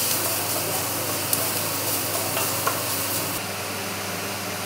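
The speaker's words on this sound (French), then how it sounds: "on l'a remplacée par des oignons que l'on va faire aussi bien colorer" Onions browning in a pot for daube provençale give a steady, even sizzle and hiss, with a couple of faint clicks and some stirring under it and no talking.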